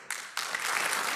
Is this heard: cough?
no